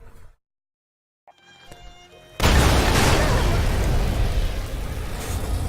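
A sudden loud video-game explosion bursts in after near silence, then becomes a heavy, sustained rumbling roar that fills the rest of the clip, with no talking.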